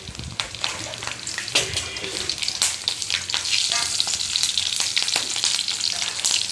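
Panch phoron spices, slit green chillies and bay leaves fry in hot oil with a loud, bubbling sizzle and scattered crackles and pops that grow denser and steadier.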